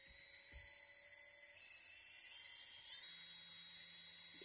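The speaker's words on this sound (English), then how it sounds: "Right there. Hear that rattling? And sometimes it gets a lot worse." A small FPV racing drone motor whines at high pitch with a faint rattle, buzzing steadily close by and shifting slightly in tone, with no talking.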